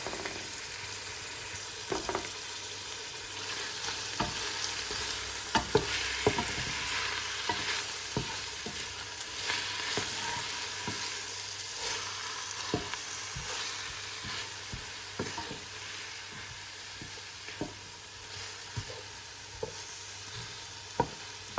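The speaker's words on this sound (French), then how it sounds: "je vais faire revenir juste mes oignons avec ma viande et l'huile" Chopped onions fry with minced meat and oil in a pan for chorba, giving a steady close sizzle with frequent scraping stirs and clicks of the utensil throughout, no talking.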